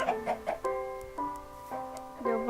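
Game-world chicken from a Minecraft-style survival game, clucking in several short rhythmic bursts of tonal squawks that stand out clearly against a quiet background.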